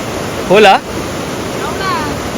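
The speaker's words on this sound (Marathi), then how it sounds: "पुन्हा एकदा जोरदार पावसाचं आगमन झालंय आणि आता पाऊस बघितला का भीतीच वाटते" A loud, steady rush of pouring rain fills the clip, with a short burst of talk cutting in briefly and a fainter voice later.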